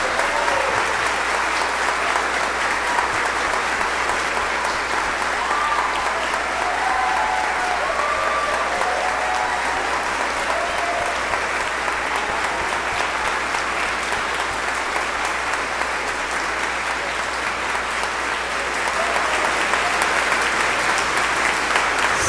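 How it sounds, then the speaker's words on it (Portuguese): Congregation applauding at a church ordination ceremony for a priest and deacon, a dense, steady wash of clapping from a large crowd that fills the room evenly and continues unbroken for over twenty seconds. "Reverendo Roberto, Reverendo Igor, a eles uma calorosa salva de palmas."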